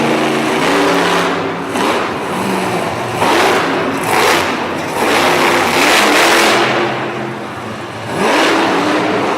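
A big white Dakota monster truck engine revving hard at full throttle in a Harrisburg, Pennsylvania arena: loud, repeated surging bursts of rising engine pitch, each dropping back briefly before the next climb.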